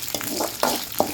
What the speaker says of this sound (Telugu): కొంచెం మంచి వాసన వచ్చేంత వరకు ఫ్రై చేసుకున్నాము.